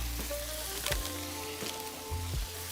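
A stick of butter sizzles loudly on a hot griddle as it melts, a steady frying hiss with occasional scraping knocks, while a background hum persists throughout.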